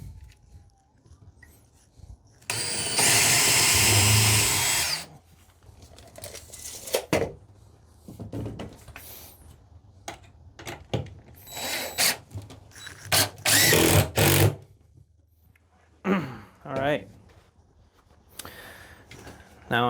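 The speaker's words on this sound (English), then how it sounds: "Going to pre-drill a hole." A power drill pre-drills a hole into the floor of a box van during a camper build, with a sustained burst of whirring up front and shorter bursts later, mixed with handling clatter and some talk.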